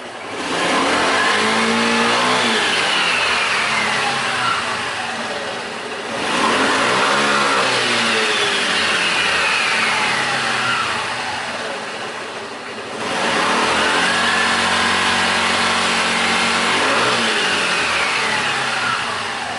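A scooter engine revs repeatedly while its carburetor is being tuned, rising and falling in three long surges separated by brief dips, loud and close throughout with no talking.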